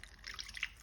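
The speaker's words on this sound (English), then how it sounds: "I'm going to add my water" Water poured into a pot of pot roast with beef bouillon cubes, a short, quiet splashing trickle lasting under a second.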